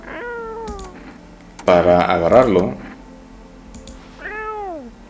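A cat in the video game No I'm Not Human gives two clear, drawn-out meows, one at the start and one near the end, with a person talking over a busier middle stretch.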